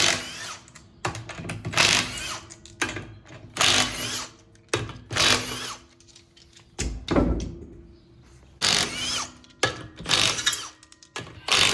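Repeated bursts of a power ratchet whirring and rattling in short pulses as it removes a Miata's wheel lug nuts, with clanks and mechanical noise in between, close and fairly loud.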